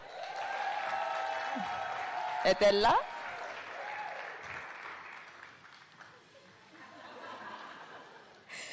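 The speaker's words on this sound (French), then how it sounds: "On les applaudit." Applause rises from an audience at a gala awards ceremony, steady clapping under a host's voice on a microphone, with a brief sharp burst of noise midway and some chuckles and chatter in the crowd.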